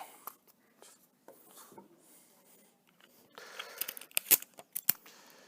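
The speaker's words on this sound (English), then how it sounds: "There we go, we got that taped up." Tape is pulled and pressed around a paper telescope in a pirate craft, giving scattered soft rustles and then a louder cluster of sharp crackling tears and snaps near the end.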